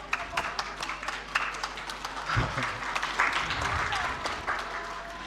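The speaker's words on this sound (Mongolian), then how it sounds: "За ахлах дунд ангийнхныгаа халуун алга ташилтаар огтоо авцгаая." An audience at a 2024 friendship evening school performance claps in warm, sustained applause, a dense patter of many hands that swells and continues steadily throughout.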